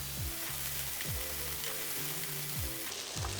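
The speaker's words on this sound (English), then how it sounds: "fry the ginger, onions, and the white parts of the green onions for about a minute" Ginger, onions and green onion whites fry in hot oil, a steady close sizzle with soft clinking strokes from a utensil roughly every half second, no voices.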